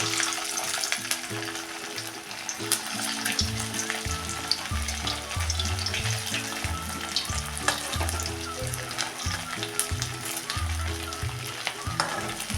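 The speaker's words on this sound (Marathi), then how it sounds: "आता असेच उरलेले कटलेट पण मी सगळे तळून घेते" Pea cutlets deep-frying in hot oil, a loud steady sizzle and crackle close by, with irregular bursts of bubbling throughout.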